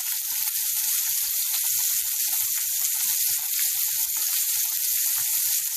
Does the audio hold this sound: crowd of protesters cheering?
no